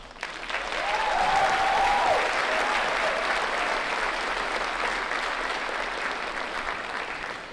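Sustained audience applause welcomes a speaker at a high school graduation ceremony, a dense wash of many hands clapping that swells quickly and holds steady for several seconds, with a brief whistle near the start.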